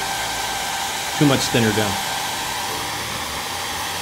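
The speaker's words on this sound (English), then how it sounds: "And have that hair dryer handy, guys." A hair dryer blows steadily to dry wet weathering paint on a model, a continuous airy whoosh running throughout, with a brief spoken voice over it partway through.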